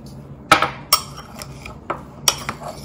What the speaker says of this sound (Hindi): मिक्स कर लें अच्छी तरह।